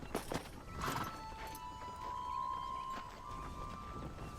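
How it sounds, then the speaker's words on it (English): A war horse in the video game Red Dead Redemption gives a short whinny amid a few hoof clops, soft and somewhat muffled over a low game ambience with a sustained tone. "Yep, so this horse is a part of DLC."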